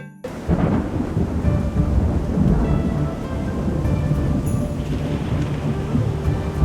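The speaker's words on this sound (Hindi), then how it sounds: "अरे कितनी तेज हवा चल रही है। इस बारिश में कोई पेड़ गिर न जाए।" Strong wind and heavy rain roar together in a steady, loud storm wash, with deep rumbling like distant thunder running underneath throughout.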